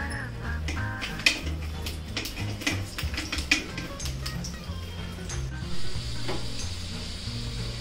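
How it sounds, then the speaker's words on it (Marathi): Garlic frying in a little oil for chutney: a steady, close sizzle with crackling pops and the scrape of stirring, while faint background tones run underneath. "यामध्ये ना आपण लसूण 1-2 मिनिट फ्राय करून घेऊया।"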